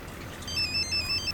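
A phone rings in a Hindi dubbed movie scene, a bright electronic ringtone trilling in quick repeated bursts over low background hum.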